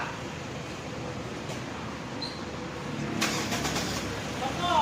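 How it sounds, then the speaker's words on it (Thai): A 2013 Honda Brio 1.2 S five-door hatchback engine starts and settles into a smooth, steady hum. It sounds fairly close, with a slight rise in level partway through. "เดี๋ยวโมดจะ ไปสตาร์ทเครื่องให้ฟังนะครับผมเสียงเครื่องนิ่มๆเลยนะ"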